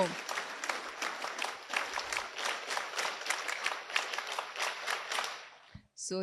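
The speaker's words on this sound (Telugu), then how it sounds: "your clap shows that you are super discipline" A group of school students claps in unison, a long run of rhythmic, evenly spaced claps at moderate distance that stops abruptly near the end, followed by a short burst of voices.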